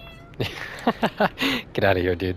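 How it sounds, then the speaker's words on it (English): A house cat meows repeatedly in short, insistent calls while someone talks over and between the cries at close range. "I'm sorry about my cat. He's pretty upset he didn't get some pizza."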